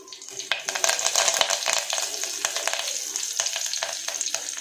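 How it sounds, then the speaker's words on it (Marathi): Garlic frying in hot oil for a Malvani fish curry gives a close, steady sizzle dotted with sharp crackles and pops throughout, with no talking. "लसूण चांगला फ्राय होऊन दे तेलामध्ये"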